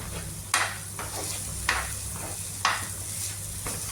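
A green peas curry is stirred in a sizzling pan on the stove, with three or four distinct scraping strokes of a spoon over a constant frying hiss, near and even, with no voices.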